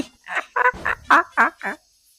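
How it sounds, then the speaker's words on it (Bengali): Chickens in an animated cartoon give a quick run of about seven loud, close, evenly spaced clucks that stop abruptly after less than two seconds. "কতগুলো মুরগি আর কেউ নেই, সবগুলো নিয়ে নি।"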